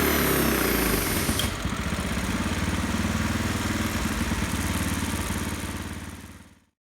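A modified Predator 212cc small engine runs at wide open throttle on a dyno with a counterfeit Mikuni carburetor, a loud steady buzzing roar that holds constant for about six seconds before cutting off abruptly.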